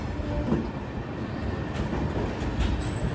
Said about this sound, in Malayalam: 5ാം നമ്പർ പ്ലാറ്റ്ഫോമിലേക്കാണ് വണ്ടി വന്നത്.